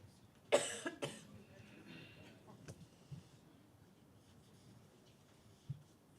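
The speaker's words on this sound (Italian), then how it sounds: "Allora tossisco prima." A few sharp coughs ring out near the start in a quiet room just before a book presentation, followed by faint shuffling and small knocks, with no speech.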